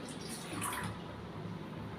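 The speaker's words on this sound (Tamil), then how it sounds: "அதுக்கு வந்து பாத்திரத்தை எடுத்து வச்சுட்டு கொஞ்சம் தண்ணி ஊற்றிக்கிடுவோம்." Water being poured into a cooking pot to make watermelon jelly, a soft, steady splashing hiss that is faint and brief, with no voices.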